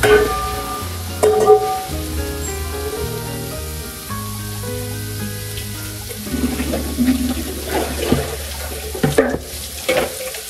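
Water is poured into a hot pan during home cooking, splashing and running with a watery hiss over a steady musical backing, with repeated pouring bursts toward the end.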